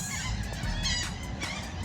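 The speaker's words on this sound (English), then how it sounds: "Seagulls everywhere." Seagulls in Corpus Christi call while being fed carne asada, harsh honking squawks repeating close by over steady outdoor wind and rumble.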